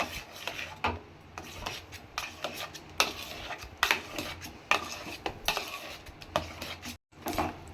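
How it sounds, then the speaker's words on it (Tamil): A spoon stirring thick fenugreek kali in a pan over a low flame, repeated scraping strokes against the pan in an uneven rhythm, close and fairly quiet, with no voices. "சிம்மில் வச்சு தான் கிண்டணும்"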